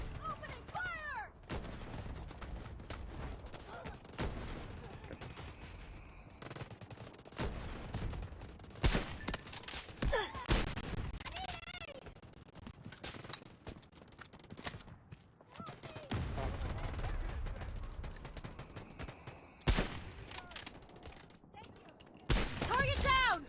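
Rapid bursts of BGMI (Battlegrounds Mobile India) gunfire come in loud clusters, some sustained like automatic fire, separated by quieter gaps, with voices talking over parts of the action.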